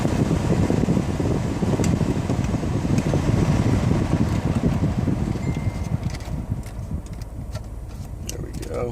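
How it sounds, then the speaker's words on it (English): Air conditioning blows strongly inside a 2014 Toyota Sienna wheelchair mobility van, a loud steady rush of fan air that eases a little toward the end, with a voice speaking over it. "Air conditioning works"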